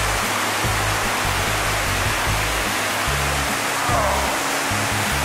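Panther Creek Falls roaring continuously close by, a dense unbroken wash of falling water over wet rocks with a low rumble underneath, steady and loud throughout.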